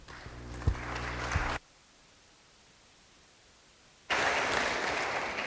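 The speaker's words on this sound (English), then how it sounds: "if everybody will give them a nice round of applause" Applause in the West Virginia House of Delegates chamber for visiting students: a broad, even patter of many hands, with a couple of sharp knocks early, then a sudden drop to near silence before the clapping resumes just as loud.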